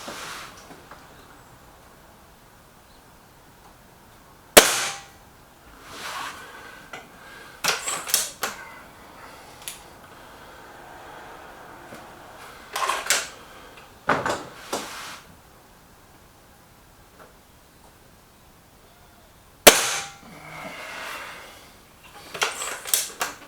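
Several shots from spring or gas-piston air rifles firing .22 pellets at a range test, each a sharp isolated crack followed by a short ringing tail, spaced widely apart with quiet between them.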